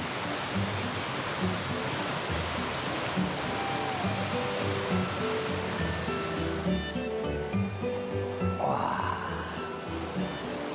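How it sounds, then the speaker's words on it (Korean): A mountain valley stream flows steadily, a dense continuous rush of water that stays loud and even throughout, with faint talk buried beneath it. "이 물소리만으로도 이렇게 사람이 위로를 받을 수 있다는 게"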